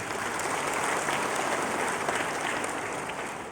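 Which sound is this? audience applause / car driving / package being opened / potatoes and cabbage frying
audience applause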